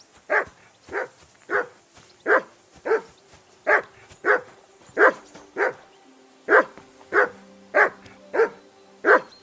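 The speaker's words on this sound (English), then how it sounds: "Call off that damn dog before he wolfs down the last of our mates." A dog in Kingdom Come: Deliverance II barks steadily, about sixteen evenly spaced barks close by and loud, with a low droning tone underneath and no speech.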